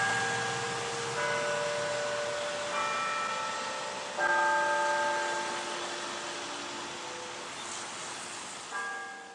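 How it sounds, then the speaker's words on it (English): Several bell chimes ring out from Buford Tower at a distance, each tone lingering and decaying over a steady background hiss. "sure enough, I heard the chimes"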